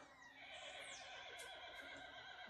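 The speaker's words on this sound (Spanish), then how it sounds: "no le hagan caso al caballo." A horse neighs nearby in a high, wavering whinny with a few rising and falling cries, loud and clear against a faint background.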